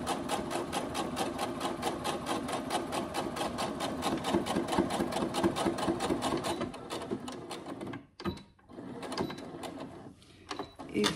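A domestic sewing machine runs steadily and close while stitching fabric for a budget envelope, with its rhythmic needle chatter continuing for several seconds before breaking into short pauses and restarts as the needle stays down in the fabric to pivot.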